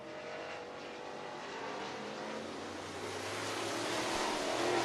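Crate late model race cars on hot lap qualifying at Rome Speedway, a distant steady engine drone that grows slowly louder over the stretch, with no talk.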